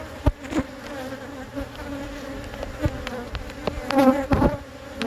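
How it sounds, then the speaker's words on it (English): Honey bees buzz around an opened beehive, a dense drone with individual bees passing close by, overlaid with occasional sharp clicks and knocks from handling the hive frames. "Give the bees a chance to get out of the way."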